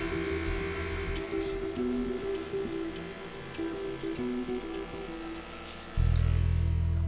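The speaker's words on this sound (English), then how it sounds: "The fine detail exhibited in casts from Great North Roads can be emphasised with an airbrush." An airbrush sprays paint onto plaster diorama casts with a thin hissing and a tonal motor hum, then a louder, fuller rush of air near the end.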